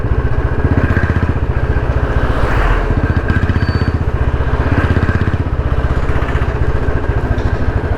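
A Bullet motorcycle with a modified exhaust silencer idles close by, its loud, deep, evenly pulsing thump continuing without a break.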